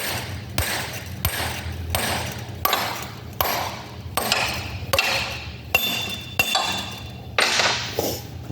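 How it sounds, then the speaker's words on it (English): Repeated metal smacks knocking a stuck part out of a 2-inch Safeway valve during a rebuild, about ten sharp ringing clanks at a steady pace, close and fairly loud with a low hum underneath. "Most of the time you can just smack it and it'll pop right out."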